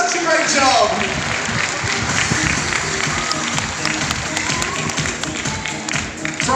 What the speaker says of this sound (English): Let's get a huge round of applause for our everyone.